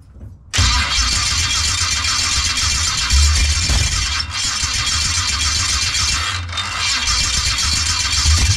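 A Chevy truck engine with a new crank sensor is started, a sudden loud whirr that settles into a continuous high, buzzy running roar with brief dips, close and steady, with no talking over it.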